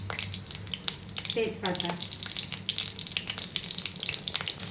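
Dry red chillies, cumin seeds and bay leaf sizzle in hot mustard oil while a fish-belly curry cooks, giving a steady close crackle with a brief spoken word over it.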